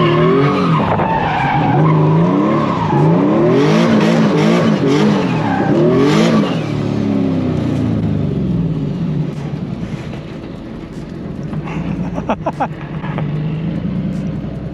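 A single-turbo Nissan S15 with an HR engine swap runs hard on a dyno, revving up and down in repeated rising and falling sweeps that fade as the run ends, with a few sharp bursts near the close.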